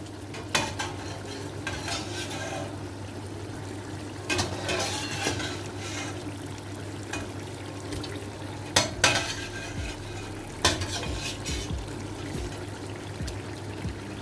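Mutton frying and being stirred in masala for degi-style mutton pulao: a steady sizzle runs throughout, broken by sharp spoon scrapes and clanks against the pot at irregular intervals.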